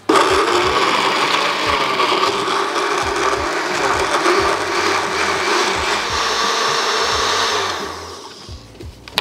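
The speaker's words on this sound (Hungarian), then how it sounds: "és most turmixolunk." A kitchen blender whirs loudly and steadily, blending banana, almond milk and egg for a cinnamon banana bread batter, running continuously for about eight seconds before winding down and stopping.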